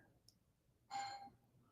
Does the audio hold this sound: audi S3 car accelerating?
no